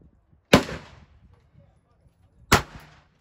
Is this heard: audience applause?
no